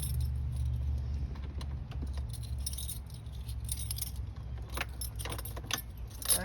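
A bunch of keys for a Club Car Precedent golf cart jangle and rattle close by in bright metallic clusters, with a low engine-like hum running underneath.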